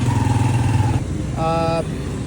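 Yamaha Aerox 155 scooter engine running near and loud, a steady low idle that cuts out partway through after the throttle is released, with a brief tonal whine following.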